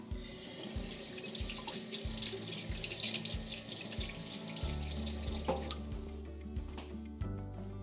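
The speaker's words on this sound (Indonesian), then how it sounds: "Aku cuci ini sebentar." Leftover vegetable scraps such as mushroom and carrot peels are rinsed under a running kitchen tap, a steady close splash of water with shifting tone and a few clatters as the scraps are handled.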